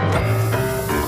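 Lysol disinfectant spray being sprayed from an aerosol can, a continuous loud hiss lasting about a second with some tonal hum beneath.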